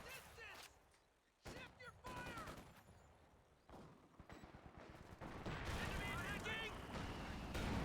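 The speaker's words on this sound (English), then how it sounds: "Nice shots from the Kettenwerfers through the hedgerow" Kettenwerfer rocket artillery in Company of Heroes fires a rapid volley of whooshing, crackling launches and impacts, loud and dense, with a commentator talking throughout.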